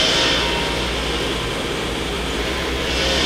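A Fanuc Tape Drill Mate spindle runs at 1500 RPM with a loud, steady mechanical whine and hum that stays constant, with no other sounds over it.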